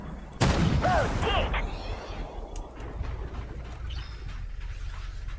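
Gunfire in the tank game Armored Warfare: a loud burst of shots hits near the start, then gives way to a steady rumble of combat with fainter shots and engine noise behind.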